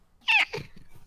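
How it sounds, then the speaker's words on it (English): A plush cat in the video game Makai Daibouken gives a short, bright synthetic meow followed by a softer trailing chirp. The sound is brief and isolated, with no voices. "There's apparently a cat nearby that's just making a lot of noise."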